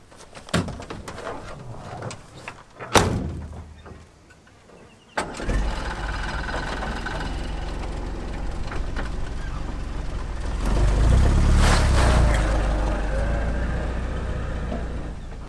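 A 4x4 vehicle's engine starts after a few knocks and clatters, then idles and revs louder as the truck drives out of a recovery over a canvas tarp, close by with no talk.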